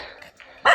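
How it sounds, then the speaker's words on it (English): A dog barks once, short and fairly close, near the end of a quiet outdoor moment during an October walk through Shipley Park near Ilkeston. "Don't like dogs barking."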